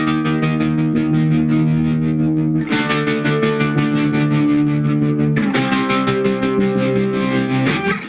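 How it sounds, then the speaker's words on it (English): Guitar through a Hologram Electronics Dream Sequence pedal set to a choppy tremolo with distortion, sustained chords pulsing in rapid even stutters, shifting to brighter, fuller chords twice. "I used a choppy tremolo kind of thing with some distortion in the mix."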